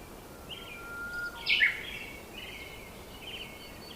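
Birds in a natural bird park in Malappuram give a few faint, high chirping calls, with one brighter call in the middle over a quiet background.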